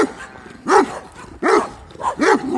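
A large dog barks loudly at close range, three separate deep barks spaced evenly over a couple of seconds, with no other sound around them.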